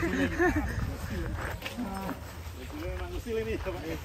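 Cattle lowing at a 'monster cow' attraction show, several drawn-out moos rising and falling over a crowded, noisy background with people talking nearby.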